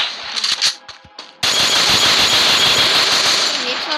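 Rapid, continuous gunfire from a Desert Eagle pistol in a shooting video game, bursting in loud and sustained after a short stretch of faint clicks and quieter shots.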